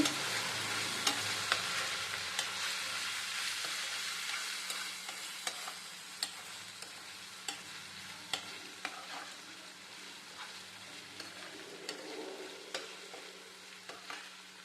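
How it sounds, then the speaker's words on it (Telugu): Spices and garam masala are stir-fried in a pan for jeera rice, a soft continuous sizzle broken by regular sharp taps and scrapes of a spoon against the pan, close but fairly quiet, with no voices. "ఇప్పుడు ఈ మసాలాలన్నీ ఒక టూ మినిట్స్ వేయించుకుందాము"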